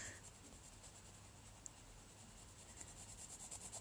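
A pencil scratches across paper in short strokes while sketching, faint and close, with a soft rhythmic rubbing that grows busier toward the end.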